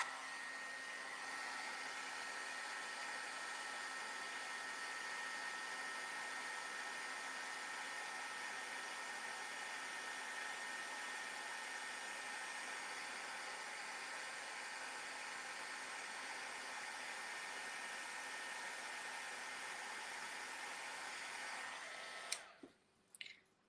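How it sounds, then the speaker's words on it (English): A heat tool blows hot air for card making with a steady, loud whooshing roar that holds for about twenty seconds, then switches off with a few small clicks. "I'm going to turn on my heat tool"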